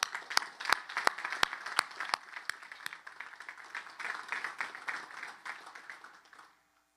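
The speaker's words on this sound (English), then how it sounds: "Let's give them a round of applause." A crowd at a West Point military academy graduation ceremony applauds steadily for several seconds, with a few loud close claps standing out at first before the clapping fades away.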